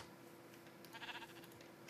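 A sheep bleats in the Minecraft video game during a farming scene, a short moderately loud bleat near the middle against a faint steady background, with no voices.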